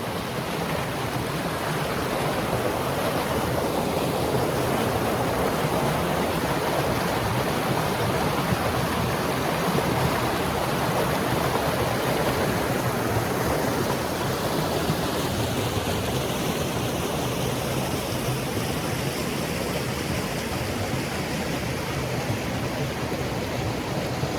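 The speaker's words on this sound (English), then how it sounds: "I'm going to show you a little more water really quickly." Continuous broadband rush of flowing stream water, steady and fairly close, filling the whole stretch with an even wash and no voices.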